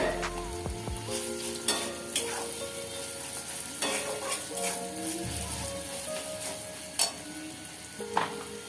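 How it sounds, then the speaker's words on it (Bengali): Onions frying in a pan on the stove, a soft continuous sizzle broken by scraping and clinking stir strokes every second or so, close up and moderately quiet. "আমি পেঁয়াজটা কিছুক্ষণ ভেজে নিয়েছি"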